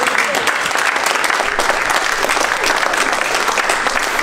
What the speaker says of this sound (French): Et on veut vous acclamer pour vous dire merci.